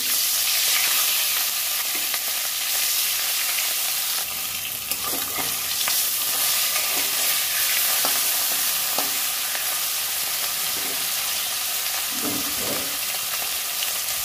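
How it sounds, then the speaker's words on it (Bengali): Two pieces of fish frying in mustard oil in a wok give a loud, steady sizzle that runs throughout, with stirring and scraping clatter now and then and no voices. "কড়াইয়ে 2 পিস মাছ দিয়ে দেবো।"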